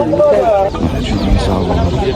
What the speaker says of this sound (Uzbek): Avgustda chiqqan xo'roz ekan.